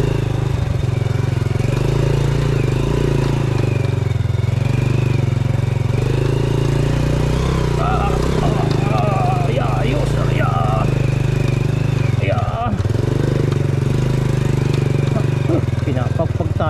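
Motorcycle ridden on a slippery farm road, a steady loud engine drone with uneven bumps and rattles, while a rider talks over it.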